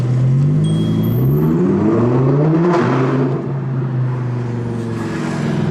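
An Audi R8 supercar engine revs hard and close, loud and continuous, its pitch climbing and falling through several rising sweeps with no talk over it.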